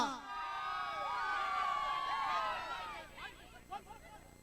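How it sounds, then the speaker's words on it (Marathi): A large crowd at a kabaddi final at the Gadchiroli Mahotsav 2025 cheers and whoops loudly with a dense roar of many voices that fades toward the end, leaving scattered shouts. "एकदा जोरदार टाळ्या"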